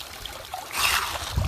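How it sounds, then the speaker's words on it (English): Creek water rushes through a sluice box made from a truck bed liner while gold hunting at Honey Creek in Ohio, a hissing trickle that swells into a louder gush partway through. "I got a pretty good channel of water coming through here"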